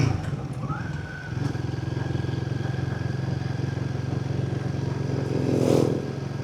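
A Royal Enfield Goan 350 motorcycle is being ridden, its engine a steady, close, continuous drone with a slight swell near the end.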